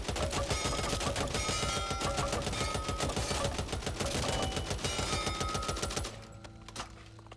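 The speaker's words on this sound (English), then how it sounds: "the RPK is one of the fastest reloading LMGs in the game" Sustained rapid automatic fire from an RPK light machine gun in the zombie shooter Back 4 Blood, a dense, loud rattling burst lasting about six seconds before cutting off to a quieter tail with a couple of faint clicks.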